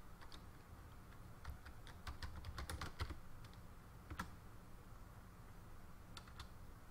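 Computer mouse clicks made while laying out a birthday card design on screen: quiet, crisp clicks in quick clusters, then sparse single clicks in a hushed room.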